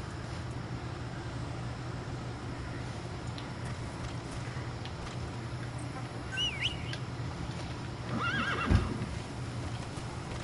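In the Metal Gear Solid V video game, a horse gives a clear whinny near the end over a low steady ambient hum, with faint hoofbeats and a few bird calls in the background.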